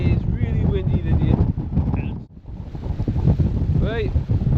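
A strong wind gusts across Druridge Bay beach in Northumberland, a loud, steady roar of buffeting on the microphone with a brief lull in the middle, and a person talks over it.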